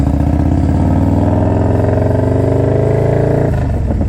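A Harley-Davidson Softail engine with a Sawicki speed exhaust idles and revs with a deep, throbbing exhaust rumble, close and loud throughout, pitch rising and falling with the throttle.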